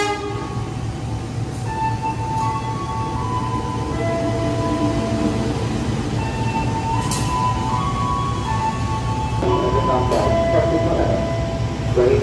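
A diesel locomotive, CC 201 class, idles with a steady low rumble and droning tones at Jakarta station, faint announcements and distant chatter mixed in.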